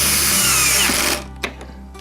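A cordless drill drives screws into a black walnut dining table, whirring loudly and steadily, then stopping abruptly, followed by a couple of faint knocks.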